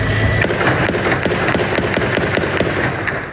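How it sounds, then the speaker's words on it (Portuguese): Rapid sharp cracks of gunfire ring out in an irregular burst over the outskirts of Damascus, Syria, in the early morning, about a dozen reports echoing over a continuous noisy background. "disparos cruzavam o céu da cidade"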